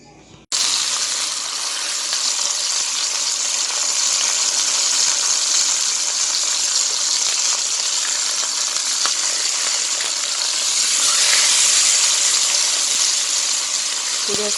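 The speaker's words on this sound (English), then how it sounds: "Now we're going to fry the rest of the pork chops." Pork chops frying in a pan, a loud, steady broadband sizzle that runs unbroken for the whole stretch, swelling slightly toward the end, with no talking.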